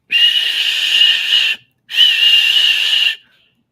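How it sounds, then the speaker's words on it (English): Digital wireless whistle blown twice, each a loud, steady electronic tone of about a second and a half, separated by a short gap and heard alone. "Did you have your wireless whistle, Steve?"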